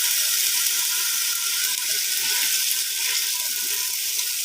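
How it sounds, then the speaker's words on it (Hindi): Chicken frying with onion, garlic and ginger in a pot: a loud, steady, dense sizzle and hiss throughout, close up with no talk. "प्याज और लहसुन अदरक के अंदर चिकन को भी फ्राई कर लेते हैं।"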